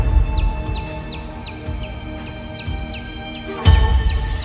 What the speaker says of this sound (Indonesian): cukup jelas aku dengar suara anak ayam itu